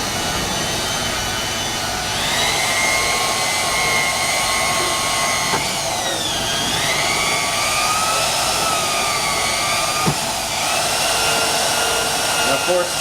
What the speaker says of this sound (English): I got a really big buffer here because I've done big tanks.